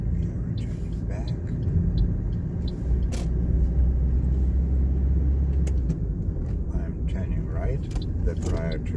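Car driving along a two-way road in steady low engine and tire rumble from inside the cabin, with a driver talking over it and occasional small interior clicks.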